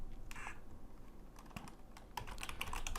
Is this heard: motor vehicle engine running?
no